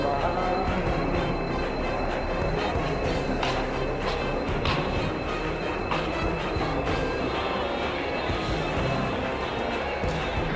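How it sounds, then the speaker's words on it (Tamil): Busy Madurai railway station ambience: a steady wash of crowd murmur and rumbling train noise, with occasional clanks and announcement-like tones throughout. "Madurai railway station"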